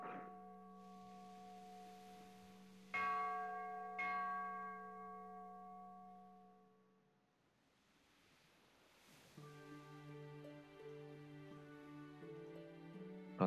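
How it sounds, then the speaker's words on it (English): In the Japan-set visual novel game Go Go Nippon, a temple bell is rung together. Several clear, sustained tolls sound, each one fading slowly over a faint wash of ambience. "Little decent sound of the bell."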